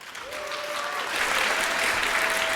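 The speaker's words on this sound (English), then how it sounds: "Big applause for Buddy." A crowd at the 38C3 congress applauds a speaker named Buddy, with broad, continuous clapping that swells slightly louder over the couple of seconds, and a faint tone running underneath.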